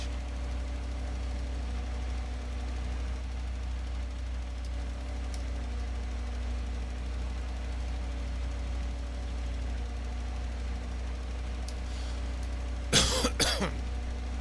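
A steady low tractor engine drone in a farming video game runs throughout, then near the end a brief sputtering cough breaks through, short and sharp against the hum.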